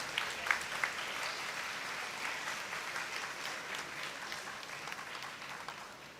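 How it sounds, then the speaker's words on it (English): Applause from an audience at a legal awareness seminar, a soft, steady round of clapping with a few louder claps at the start, heard from a distance and fairly faint. "Can we have a big round of applause?"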